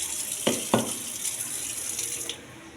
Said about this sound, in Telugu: శుభ్రం కడగాలండి 2-3 సార్లు.